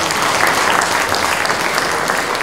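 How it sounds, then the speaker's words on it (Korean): A hall full of people applauds at a Korean Buddhist newspaper's 40th anniversary ceremony. The clapping is loud, dense and continuous, with a faint crowd murmur beneath it. "회장에게도 큰 박수 한번 보내주시기 바랍니다"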